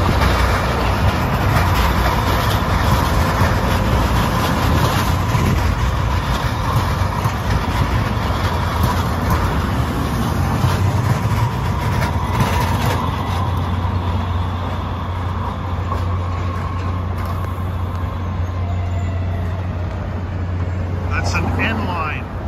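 A San Francisco Muni Metro LRV2 light rail set pulls into a station, a loud, sustained rumble with a steady low drone building in the latter half and a brief high squeal near the end.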